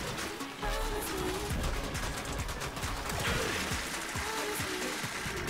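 Alternate fire of a long-range beam weapon in a video game, a steady buzzing, crackling stream with rapid pulsing bursts, fairly quiet and continuous.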